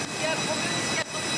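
A loud, steady roar of airplane engines fills the space while passengers board the plane, a broadband whine with brief dips, and talk mixed in beneath.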